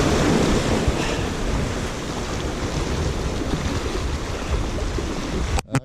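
Ocean surf washes steadily onto the beach at Martin's Beach at high tide, a loud continuous roar of breaking water mixed with wind buffeting the microphone.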